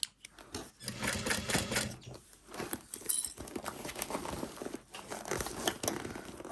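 A domestic sewing machine stitches a quarter-inch seam along the top edge of an Evelyn handbag, running in close, fast bursts of rattling stitches broken by brief pauses as the bag is turned.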